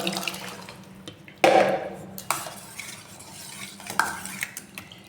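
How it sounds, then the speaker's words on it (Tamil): Banana-soaked water, banana peels and old cooked rice poured together into a container, with a sloshing pour, wet stirring and scattered clinks against the vessel, close up and without speech. "இது என்ன செய்கிறோம்னா மொத்தமாக இதில் ஊற்றுறோம்"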